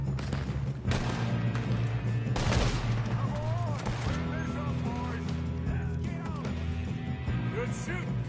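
Gunfire in Red Dead Redemption pops in scattered shots and short bursts, moderately loud, mixed with background game sounds and voices.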